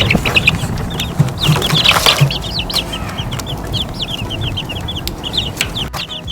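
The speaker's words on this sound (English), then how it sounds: "And I'm going to show you our little chicks and their house." Young Rhode Island Red and Black Rock chicks cluck and peep steadily in their coop, a busy chorus of short high chirps close by with some lower clucks, continuous throughout with no talking.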